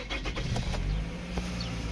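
Toyota Camry with automatic gearbox, about 147,000 km, starting up: a short engine crank and catch followed by a steady idle, fairly quiet and close, with no talk.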